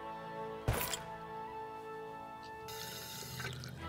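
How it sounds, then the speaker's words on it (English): Running water in the South Park video game: one sharp splash, then a steady faint tap-like flow over a low musical hum, and a brighter rush near the end. "Water."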